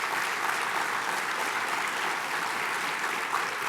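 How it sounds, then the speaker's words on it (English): Guests at a scholarship awards banquet give the nominees a sustained round of applause, steady and even clapping from a full room with no voices over it. "could we just have a big round of applause for all of the nominees"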